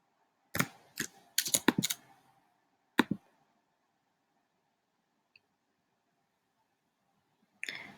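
Key taps and clicks on a Mac during a Shift-Command-4 screenshot shortcut: a quick cluster of sharp close clicks, a pair of clicks a moment later, then a faint tick and one last click after a quiet pause.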